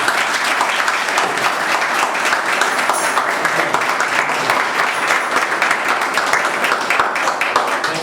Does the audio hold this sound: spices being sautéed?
no